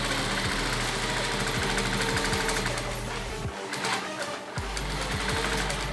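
A sewing machine stitching a leather shoe lining to the leather upper with a sponge layer during shoe making in Uganda, running loud and steady with a rapid mechanical hum and regular knocks, briefly pausing midway.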